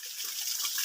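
Steady rushing water from a forest waterfall, a continuous close hiss and splash with no voices.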